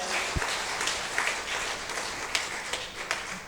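Audience clapping at a Hindi kavi sammelan poetry gathering, a steady mid-level wash of applause with a few sharper claps standing out, continuing throughout without speech.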